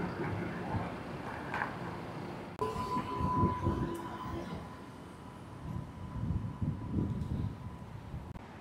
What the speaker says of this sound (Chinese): 这是波士顿的那个地铁。